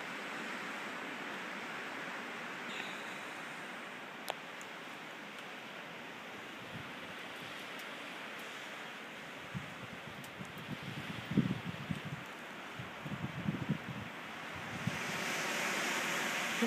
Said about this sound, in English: The winds are howling, it's blowing the snow all over the place.